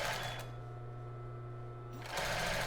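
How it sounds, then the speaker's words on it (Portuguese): A sewing machine stitches fabric for a child's bra in short, steady runs, with a brief pause in the middle before the motor hum resumes. "E começar a costurar. Deixa 1 centímetro sobrando, começa e dá o retrocesso."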